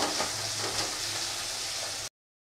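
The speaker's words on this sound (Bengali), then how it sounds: "পেঁয়াজগুলোকে একটু লাল করে ভেজে নেব।" Onions fry in hot oil in a pan for a Bengali fish dish, a soft, even sizzle close by for about two seconds before cutting to silence.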